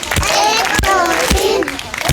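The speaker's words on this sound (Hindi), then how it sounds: "स्काउट ताली" Schoolchildren at a government primary school give a scout clap, a few loud, spaced, patterned claps cutting through a busy backdrop of children's voices and crowd chatter.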